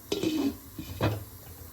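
A metal lid set onto a pot of jackfruit dum biryani, two close clanking contacts of metal on metal with a short scrape between them.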